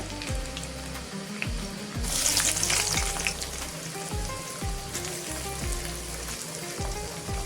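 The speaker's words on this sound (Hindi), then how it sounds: "दो मिनट फ्राई कर लेंगे मैं प्याज लहसुन को" Steady oil sizzle and crackle of onion and garlic frying, growing louder partway through, with occasional stirring clinks and a low rhythmic background hum.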